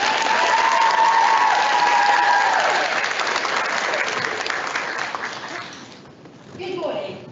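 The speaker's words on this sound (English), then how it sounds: "Please join me in giving them an amazing and warm round of applause" An audience at a public speaking competition gives Team Nightingale a warm round of steady clapping with a few cheers, sustained for several seconds before tapering off as a speaker begins.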